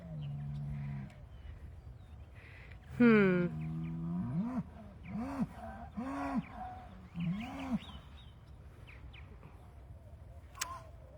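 Several drawn-out cow moos from what sounds like a distressed mother cow, one loud call followed by a series of shorter lowing calls, close by and over light background noise.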